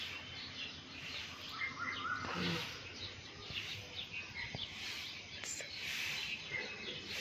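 Sparrows chirp and a cuckoo calls outdoors in the morning, several small tweets over a steady hiss of background noise, moderately distant, with no one speaking.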